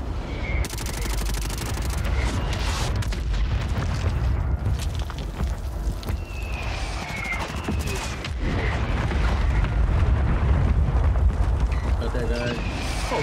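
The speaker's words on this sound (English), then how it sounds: "Mortar again." Mortar strikes and gunfire in a Call of Duty match play as a dense, continuous barrage of booms and rapid shots, loud and sustained throughout, with a player talking over the action.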